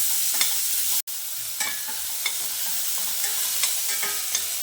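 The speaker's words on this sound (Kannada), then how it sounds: "ಈರುಳ್ಳಿ ಸ್ವಲ್ಪ ಕಲರ್ ಚೇಂಜ್ ಆಗೋವರೆಗೆ ಫ್ರೈ ಮಾಡ್ಕೊಳ್ಳೋಣ." Onions frying in hot oil with peanuts and curry leaves in a pan for mint rice, a steady sizzle broken by repeated scraping stirs and a brief dropout near the start, no voices.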